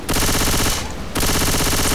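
Rapid automatic gunfire from a gun in the zombie shooter Left 4 Dead 2, two loud sustained bursts of dense shots separated by a short pause, close and alone with no talk.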